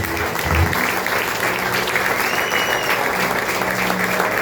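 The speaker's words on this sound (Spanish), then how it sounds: "Bríndele un fuerte aplauso al Señor" A church congregation at a revival service gives loud, sustained applause to the Lord, with a continuous wash of clapping and crowd noise.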